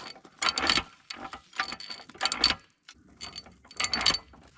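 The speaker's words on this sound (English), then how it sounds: "You work the billows by pumping the handle up and down, and that turns this flywheel, which runs a fan and blows air into the coals." Hand-pumped forge bellows with a flywheel-driven fan, its grease frozen in freezing weather, making repeated bursts of mechanical clanking and ratcheting about every second and a half, close and fairly loud with brief pauses between strokes.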